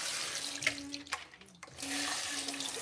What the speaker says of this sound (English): Just rinsing out all of the pulp.